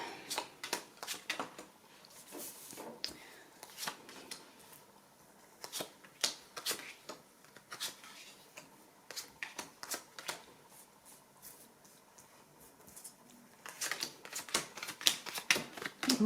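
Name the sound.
tarot cards being shuffled and handled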